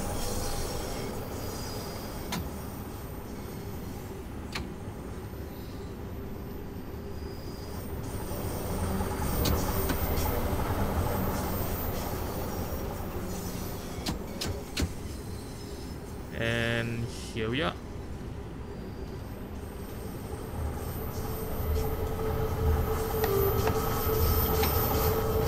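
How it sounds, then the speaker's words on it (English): A London Underground Bakerloo Line train in the Train Sim World 4 video game speeds through a tunnel with a steady, loud rumbling roar and rising wheel noise, and a brief squeal and clatter partway through. "Okay, speeding through the tunnel right here"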